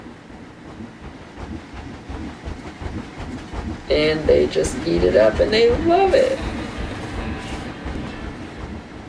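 A small theme-park-sized railway train in Planet Coaster rolls along with steady rumbling and clacking, swelling louder midway, under continuous talk.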